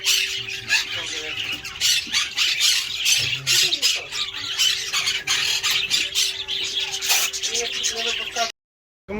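A parrot squawks loudly and repeatedly in harsh bursts across the whole stretch, with a steady hum and people talking underneath before it cuts off abruptly.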